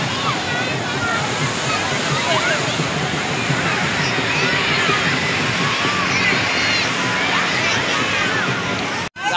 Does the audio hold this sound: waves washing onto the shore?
yes